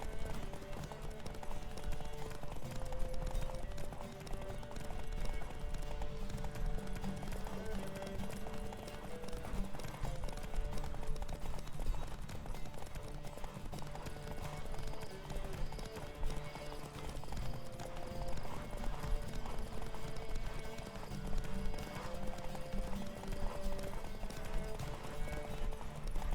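Rapid rhythmic hoofbeats of a galloping horse in The Witcher 3 pound on continuously, with an occasional whinny and faint voices mixed in.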